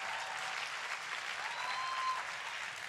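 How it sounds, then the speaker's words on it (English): A church audience claps and applauds at the close of a sermon, a dense, steady wash of many hands filling the room at even loudness, with a faint sustained tone drifting beneath. "Stand up and clap like you got energy."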